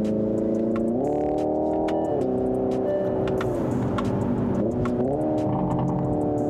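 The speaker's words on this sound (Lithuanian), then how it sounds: "tas popkornų garsas tikrai atrodo, kad yra gale duslintuvas ir iš galo tau šaudo" A Hyundai Ioniq 5 N electric car's simulated engine sound hums and shifts pitch in steps while sharp, irregular popping crackles burst repeatedly over it, like exhaust backfires.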